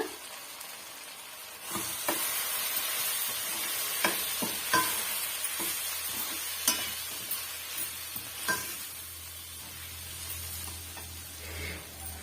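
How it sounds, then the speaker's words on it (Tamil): Masala being sautéed in a pan for chana gravy, a steady close sizzle with scattered stirring scrapes and clicks running throughout, no voices. "லைட்டாக வந்து ஒரு டூ மினிட்ஸ் மட்டும் வதக்கி விட்டுக்கோங்க"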